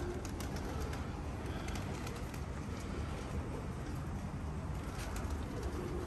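Homing pigeons coo on a rooftop, with soft, continuous murmuring calls over a steady background hum and no talking.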